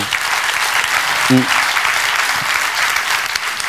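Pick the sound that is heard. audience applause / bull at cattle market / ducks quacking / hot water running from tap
audience applause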